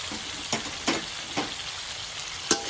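Ruby fish is stir-fried with celery and seasoning in a pan, giving a steady sizzle broken by a few sharp scrapes and clinks of the spatula.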